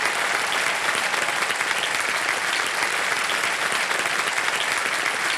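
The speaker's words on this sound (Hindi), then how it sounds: "यार जोरदार तालियां एक बार बज जाए हमारे लिए" Studio audience on a game show applauds loudly and steadily, a dense sustained wash of clapping with no talk over it.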